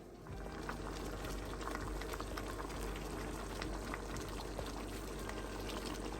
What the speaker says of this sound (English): I added a little bit of water in it. And now I'm going to just close it and let it steam for a little bit.